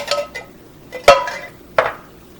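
A spoon stirs Thai green curry with coconut milk in a pot, making three separate clanks of metal on metal in a short burst, close and fairly loud.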